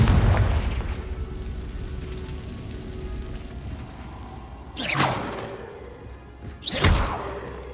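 The Confringo fire spell goes off in Hogwarts Legacy. A deep rumbling boom fades out, then two sharp whooshing blasts follow a couple of seconds apart over a low game ambience.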